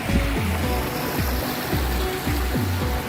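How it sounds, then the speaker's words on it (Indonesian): A small stream babbles into a river beside a riverside hut in Citeureup, Bogor, giving a close, steady wash of flowing water with a few soft tonal sweeps rising over it. "terdengar gemericik suara sungai yang menambah keindahan dari alam"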